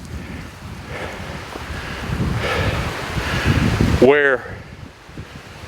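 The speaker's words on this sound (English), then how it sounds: "it's really windy up here" Strong wind buffets the microphone on a mountaintop near Mount Pisgah, a steady broadband roar rising in gusts, with a brief spoken word cutting through near the end.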